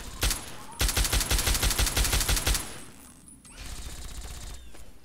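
Gunfire in the video game Fallout 3 opens with a single loud shot, then a rapid automatic burst lasting about two seconds. After a short quiet gap, a softer, steadier noise follows.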